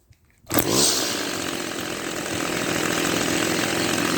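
An old Craftsman weed wacker with no clutch starts with a sharp rise, then its small two-stroke engine runs steadily at a loud, constant idle, close and alone with no voices.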